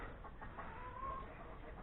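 A hen clucks faintly after laying an egg, a short series of soft calls, low in level against a noisy background.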